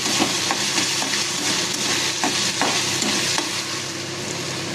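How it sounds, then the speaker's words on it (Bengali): Salted vegetables for poha fry in a pan, a loud, dense, continuous sizzle close by with faint stirring taps, no speech. "দেখুন সবজিগুলো ফ্রাই হয়ে আসছে"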